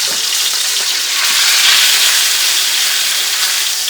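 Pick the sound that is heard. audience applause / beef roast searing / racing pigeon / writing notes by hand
beef roast searing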